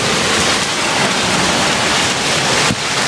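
Hail falling continuously, a dense steady hiss of pellets striking outdoors, loud and close with no voices, a brief dip near the end.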